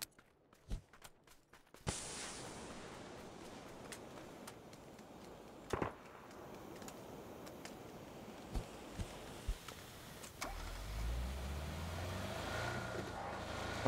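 A car in the battle royale game PUBG: after a few scattered footstep-like thumps, an engine rumble starts and builds, with a low revving growl rising near the end, fairly quiet overall.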